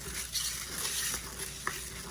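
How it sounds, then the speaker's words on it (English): A chopstick stirs melting beeswax for homemade candles, giving a soft, continuous scraping and swishing close by, with a small clack near the end and no talking. "I am going to use, I think, just a chopstick, to be honest with you, to start out"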